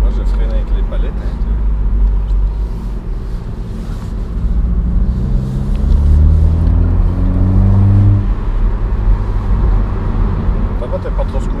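A 2021 BMW Z4 2.0i petrol engine hums steadily while driving, with the engine tone rising and falling around the middle amid road and wind noise, and people talking throughout.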